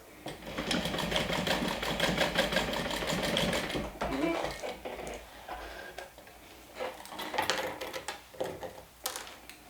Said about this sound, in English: I'm stitching this down with a 3/8 of an inch seam allowance.